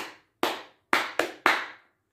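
Bare palms clapping in a simple rhythm: four sharp, close claps, the last three closer together, with a brief decay after each and silence between them.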